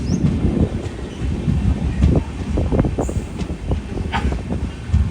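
Velankanni–Ernakulam Express train at Sivaganga station on a diverted route, a steady rumble of carriages with clattering wheel clicks and a brief squeal, close and continuous throughout.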